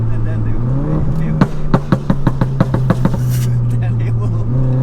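A modified R56 Mini pulls hard under acceleration, its engine droning steadily up close with a run of sharp, evenly spaced pops or knocks midway, while voices talk inside the car.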